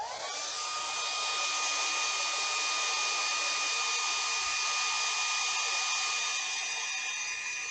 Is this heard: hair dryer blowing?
yes